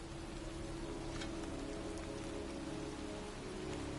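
Heavy rain pours over a cemetery in the video game Heavy Rain, a steady dense hiss that stays even and fills the scene throughout with no voices.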